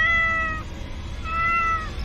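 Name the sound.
cartoon character imitating a cat meow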